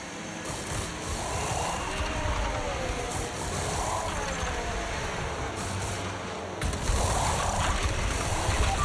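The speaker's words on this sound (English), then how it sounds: "There seems to have been a problem attaching the left front wheel." Pit stop in the F1 25 racing game, with mechanical whirring and ratcheting from the wheel being fitted under steady engine and crowd noise, growing louder near the end.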